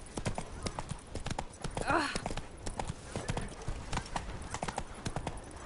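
Horse hooves clip-clop in a steady walking rhythm in a video game, close and moderate in level, with a brief whinny near the middle and a voice talking in the background.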